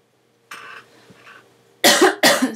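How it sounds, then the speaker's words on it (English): Two sharp, loud tickly coughs close to the mic follow a few faint throat noises and quiet breaths. "I'm very tickly cough today."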